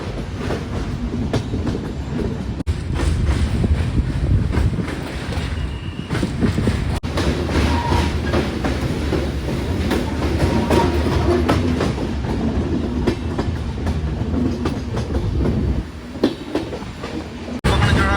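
Karwar Express running on the Mangaluru to Yesvantpur line near a bridge, a steady loud rumble of wheels and carriages with rhythmic clickety-clack throughout.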